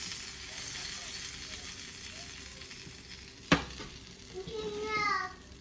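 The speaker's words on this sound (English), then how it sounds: "this dang skillet done got hot. I'm just flipping these bad boys" Food sizzling in a hot skillet while being flipped, a steady close hiss with one sharp clack of the turner partway through and a brief rise in sizzle afterward, a voice faintly audible near the end.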